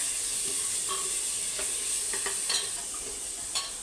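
A chickpea dal tadka sizzles in a pan on the stove, with a steady close frying hiss broken by several light scrapes and clinks of stirring. No one speaks.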